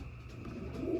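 Racing pigeon, a long-keeled strong cock bird, cooing softly while held in the hand, a steady low burbling coo running close and continuous through the moment.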